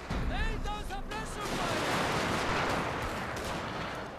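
Matchlock infantry kneel and fire a volley in Total War: Shogun 2, Fall of the Samurai: a dense crackle of massed musket shots rolls on for several seconds, loud and steady, with game voice callouts at the start.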